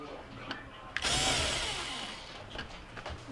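A power drill backs out mounting screws on a Whirlpool refrigerator's emitter board, a brief click then a loud whirring burst lasting about a second and a half before tapering, followed by small handling clicks.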